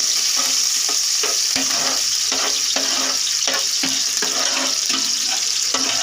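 Onions browning in a pan, frying with a steady close sizzle and bursts of spatula scraping and stirring every second or so, for a Pakistani beef keema yakhni pulao, with no talk.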